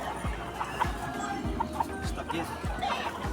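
Game fowl stags and roosters at a gamefarm cluck repeatedly in short bursts, close and fairly loud over a busy background, with faint murmurs of people talking.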